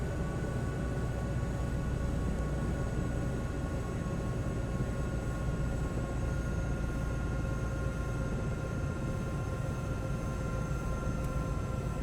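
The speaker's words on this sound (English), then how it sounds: "why is the engine powering down?" Simulated helicopter engine in Microsoft Flight Simulator 2024 running down by itself, heard as a steady, loud, close turbine drone with a thin high whine over it, holding nearly constant throughout with no voices.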